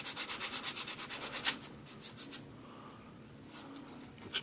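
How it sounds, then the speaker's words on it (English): Sanding stick rubbed over a model car body, a quick run of about a dozen rhythmic scratchy strokes, then a few slower, softer passes and a pause before one last faint stroke, all close and quiet. "I'll take my sanding stick here, and I'll just hit it just a little bit"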